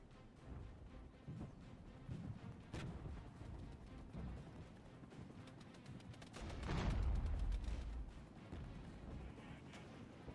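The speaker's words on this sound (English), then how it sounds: "Oh, their mortars are incoming now." Incoming mortar rounds in the WWIII real-time strategy game Regiments thud and rumble at a distance, a swelling boom rising around the middle over a continuous low battlefield crackle.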